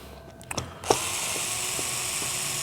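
A ratchet clicks a few times while backing out the last screws, with quick close mechanical clicks followed by a steady whirring drone and a few faint ticks.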